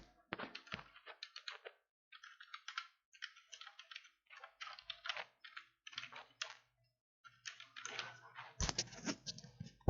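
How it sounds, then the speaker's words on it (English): Keys clatter on a computer keyboard as an email address is typed, a fast run of light clicks in short bursts with brief pauses, close and clear, ending in a heavier thump. "you can type your email address"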